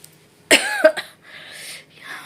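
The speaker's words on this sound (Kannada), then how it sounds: "ಜಾಸ್ತಿ ಮಾತಾಡಿದ್ರೆ ಕೆಮ್ಮು ಬರುತ್ತೆ" A single harsh cough up close, followed by a short second cough and a faint breathy exhale, with no talking.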